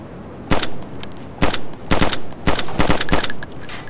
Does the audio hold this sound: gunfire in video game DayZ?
yes